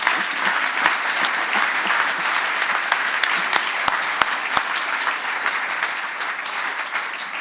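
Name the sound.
audience applause at grand opening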